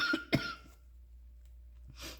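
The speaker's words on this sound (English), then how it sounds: "it's the cough that's nagging." A person with a lingering cold and asthma gives a couple of quick, close coughs at the start, then near-quiet breathing and a faint breathy sound at the end.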